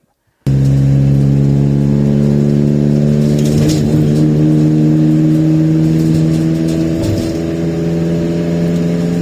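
A van engine with a homemade exhaust starts and idles loudly with a deep, droning exhaust rumble that swells briefly as it revs, close and continuous.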